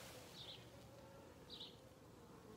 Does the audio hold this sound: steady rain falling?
no